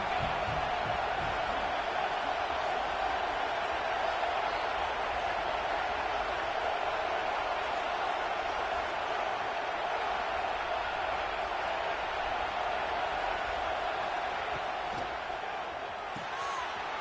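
Stadium crowd roar in an online NCAA football dynasty video game, a constant dense wash of noise holding steady at length, with a commentator talking over it.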